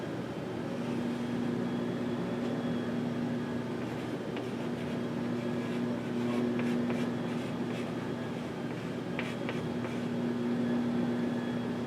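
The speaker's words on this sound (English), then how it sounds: "So I'm going to just kind of sketch one in here." A pen sketching a graph by hand on paper, soft scratchy strokes coming in scattered clusters over a constant steady hum from the room, fairly faint and close with no talk.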